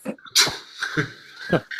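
A person imitating a dragon's sneeze makes a few breathy, snorting sneeze-like bursts with whimpering nasal squeaks, close and fairly loud, in several short separate bursts.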